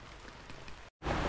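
Rain falling during a typhoon, a steady broadband hiss that cuts out briefly to silence and then returns louder and closer.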